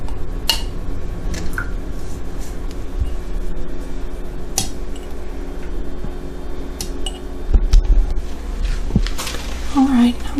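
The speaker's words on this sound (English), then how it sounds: "So I'm just going to start by filling up my jars with the eggs." Quail eggs being set into glass jars for pickling, giving light scattered clinks and taps against glass, with a person talking over them.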